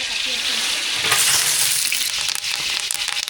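Whole spices sizzling and frying in hot oil in a pan for Tamil-style chicken biryani, a loud, steady crackle throughout with brief stirring scrapes, close up and without talk.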